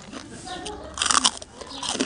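Crunchy bites into crispy homemade pork cracklings, a few sharp crackling bursts close to the mic over a quiet background, with a brief voice underneath.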